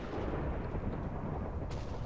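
Explosions in the Minecraft SheepWars game blend into a dense, continuous booming rumble that stays steady and loud throughout, with no talk.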